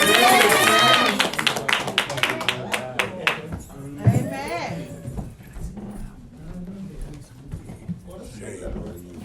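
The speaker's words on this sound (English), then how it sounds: "Let's receive him with a big hand clap." Church congregation claps hands at a Wednesday night service, a burst of loud rhythmic clapping that fades after a few seconds into murmuring voices and talk.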